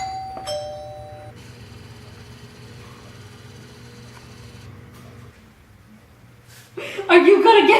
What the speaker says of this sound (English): So whenever we hear the doorbell, something like this happens.